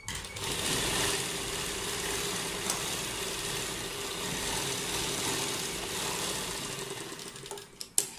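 A sewing machine stitches fabric along a double-piping neckline shape in a continuous moderate whir, with a few sharp clicks toward the end as the stitching stops.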